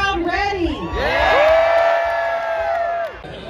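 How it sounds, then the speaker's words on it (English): Crowd at a wiener dog race event in Texas cheering and whooping loudly, a sustained roar of voices with children shouting rising and then fading over a few seconds. "Is the crowd ready?"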